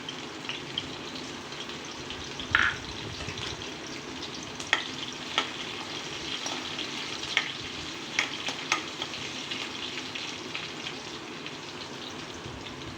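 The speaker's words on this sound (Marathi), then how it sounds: "हे जे आद्रिक अद्रकचे आपण तुकडे करून घेतलेले आहेत ते आपण या तुपामध्ये घालणार आहे" Ginger and chili pieces fry in hot ghee with a steady, close sizzle and crackle, broken by occasional sharp pops and stirring clinks across the whole stretch.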